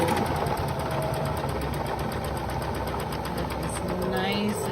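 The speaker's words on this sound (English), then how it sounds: "Press your foot down and stitch, and then back stitch a bit." A sewing machine runs steadily, stitching and back-stitching fabric for a scrunchie, with a continuous rapid mechanical whir close up and a voice talking faintly over it.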